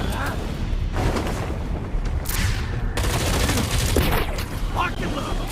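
Sustained gunfire in the VR game Batman: Arkham Shadow, a dense, continuous clatter of shots and booms filling the whole stretch.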